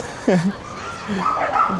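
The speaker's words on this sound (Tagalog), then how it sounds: "Ang dami ng aso dito ngayon." A small dog barks and yips a couple of times up close on a busy Harajuku street in Tokyo during cherry blossom season, with faint chatter in the background.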